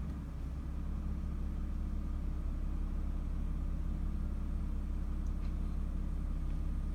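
Nissan 350Z idling low with no throttle, a steady deep engine rumble held evenly throughout at close range.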